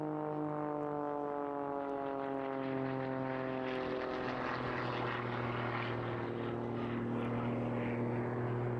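An aerobatic propeller plane of over 1,000 horsepower runs at full power during an Eastbourne airshow display, its engine drone sliding downward in pitch as it passes, loud and alone.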